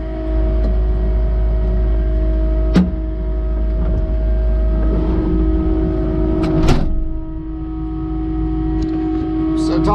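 A Takeuchi TL8R2 track loader rolls down the road with a constant heavy engine hum and tonal whine, broken by a few sharp clanks and rattles. Nearby speech is faint.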